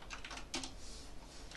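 Quiet, steady typing on a computer keyboard as replies are written to lesson inquiries, with soft rapid key taps continuing throughout and one slightly louder keystroke near the start, no talking.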